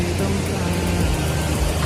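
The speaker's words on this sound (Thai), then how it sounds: "เพราะว่าตอนนี้ฝนตก" Steady rain falling during the rainy season at Mae Kampong, a broad continuous hiss with low rumble throughout, fairly loud and close, with no talking.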